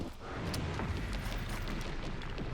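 A mortar shell explodes in the video game Resident Evil Requiem, a dense low rumbling roar that swells after a brief onset and sustains loudly throughout, with scattered debris-like crackles on top.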